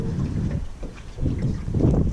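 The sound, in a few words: wind on a fishing boat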